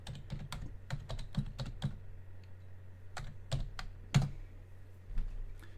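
An IP address typed on a computer keyboard to reach a web server, giving quiet, close clusters of key clicks in quick bursts with short pauses, over a steady low hum.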